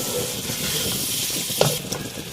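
Steady oily sizzle of boiled chickpeas frying in a pan, a continuous crackling hiss with a few small pops near the end.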